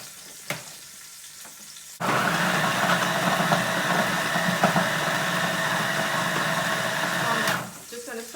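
A food processor blitzes vegetables with curry paste, starting abruptly as a loud, steady whirring motor drone that runs for several seconds before cutting off, with brief handling clatter before and after.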